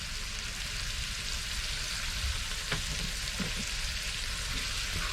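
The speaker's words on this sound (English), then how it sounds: "So in goes my garlic." Garlic frying with chicken and onions in a pan aboard a narrowboat, a soft, constant sizzle with a few faint clicks and scrapes, fairly quiet.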